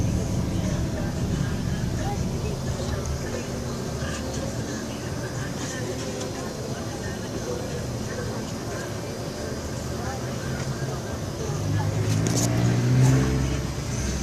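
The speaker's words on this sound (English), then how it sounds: "traffic is slowly building up here in this area" Early-morning street traffic in Manila building up at around 6 a.m., a continuous wash of passing cars and engines at mid distance, swelling louder near the end as a vehicle accelerates close by.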